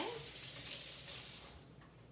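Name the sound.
rinsing hands under a water tap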